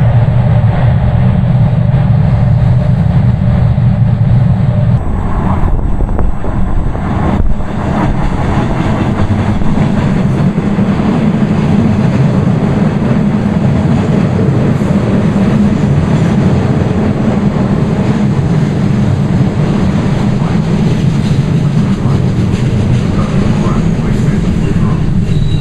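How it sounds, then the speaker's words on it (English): An MBTA Red Line subway train rumbles through a tunnel, a loud continuous roar with rattling and clacking heard from inside the car for the whole stretch. "The destination of this train is Ashmont"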